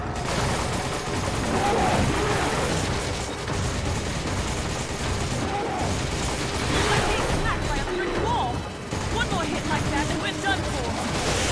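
Gunfire from the video game Resident Evil 5, dense bursts of shots running steadily throughout under ongoing game noise and talk.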